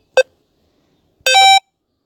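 Two electronic beeps from the retro dinosaur game: a very short blip, then a pause, then a longer, buzzy, bright tone. Silence surrounds both.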